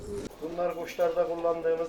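Homing pigeons in a Kahramanmaraş loft coo in soft, repeated, rolling phrases close by, with a voice faintly present alongside.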